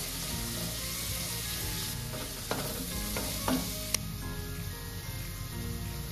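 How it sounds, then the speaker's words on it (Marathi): Chopped onion sizzles steadily in a hot pan while being stirred toward golden brown for a whole masoor dish, with a few light utensil taps over the continuous frying hiss. "गोल್डन ब्राउन कलर येईपर्यंत आपल्याला या कांद्याला परतायचं आहे"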